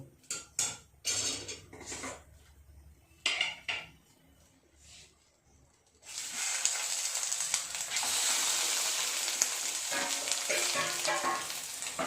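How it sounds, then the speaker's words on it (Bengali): Bhetki fish paturi fries slowly in a pan, a steady dense sizzle filling the second half after a few clinks of utensils and cookware at the start, fairly close and with no talking. "বাকিগুলো এর উপরে দিয়ে এইভাবে কম আছে আস্তে আস্তে ভাজা করে নেব"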